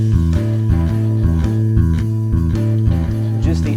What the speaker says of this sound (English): that's an 8th note bass line embellished with the 5th